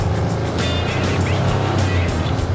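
Motorcycle engine held at steady high revs during a roadside exhaust noise test at a vehicle inspection, loud and continuous with a dense rumbling exhaust roar throughout.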